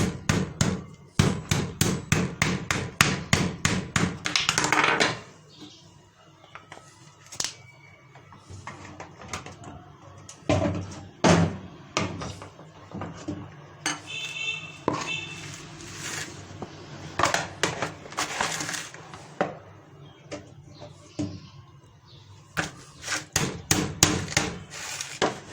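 Raw chicken breasts and thighs are pounded flat with rapid, sharp, repeated thuds in bursts, with quieter pauses and occasional lone knocks between the flurries.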